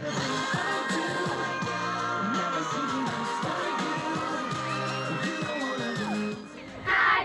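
A large, loud crowd of pop fans at the Rose Bowl yells and whoops continuously, with music and singing mixed in and a burst of cheering near the end.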